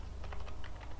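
Rapid keystrokes on a computer keyboard, a short, steady patter of close clicks over a low background hum, with no voices.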